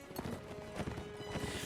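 Horse galloping in the Mount & Blade Warband video game during a mounted lance battle: quiet, steady hoof clip-clop under low game noise, with a few faint thuds spread across the short stretch.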